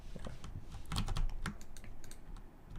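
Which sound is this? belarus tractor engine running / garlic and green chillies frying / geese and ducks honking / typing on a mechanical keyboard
typing on a mechanical keyboard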